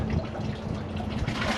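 A toilet flushes with steady rushing, gurgling water, moderately faint and continuous through the short stretch, with no voices over it, during a test of latex gloves in an American Standard Cadet 3 or Kohler Highline toilet.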